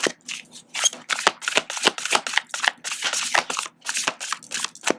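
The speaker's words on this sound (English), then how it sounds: "This is like a hard deck to shuffle." Playing cards are riffled and shuffled in repeated quick bursts of crisp flapping, close up and fairly quiet.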